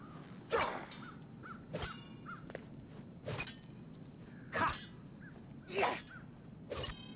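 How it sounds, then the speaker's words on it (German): A crow in Warhammer: End Times - Vermintide gives repeated harsh caws, five or six spaced calls at fairly close range over a quiet game background. "Unverwundbare Krähe der Unverwundbarkeit"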